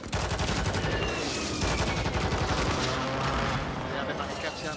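Rapid bursts of video game gunfire crackle loudly and continuously, dense rattling shots filling the whole stretch.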